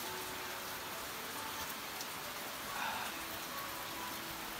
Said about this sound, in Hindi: तो भाई बाहर पे तो बारिश हो रही